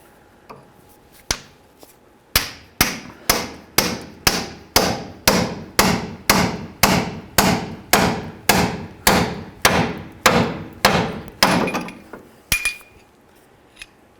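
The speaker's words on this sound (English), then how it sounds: "I'm going to do that using a pickle fork and my hammer." A steady run of about twenty sharp metallic hammer blows on a pickle fork separating a tie rod on a Chevy S-10, evenly spaced and loud, preceded by a few lighter taps.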